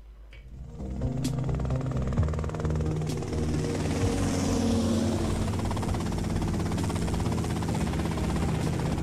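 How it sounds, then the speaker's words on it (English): Helicopter in the video game GTA Vice City at the docks, a steady continuous engine and rotor drone with a low throbbing hum, loud and unbroken throughout, with no talk over it. "Okay, that's them in the chopper."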